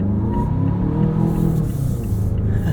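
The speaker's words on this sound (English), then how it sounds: "See how this accelerates off the line." A 2022 Mazda CX-9 Signature accelerating from a stop, a steady loud engine rumble and rising drone heard from inside the cabin.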